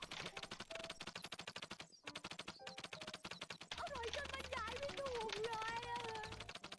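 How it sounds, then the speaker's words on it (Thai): Rapid automatic gunfire from a video game gun rattles in fast, evenly spaced bursts with a brief pause, then continues under a person talking. "ปืนมันยิงยาก"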